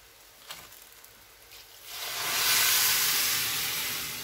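Cooking water poured into a hot pan of grain-and-vegetable risotto (khichudi) bursts into a loud, rising steamy hiss that swells and holds after a few quiet taps.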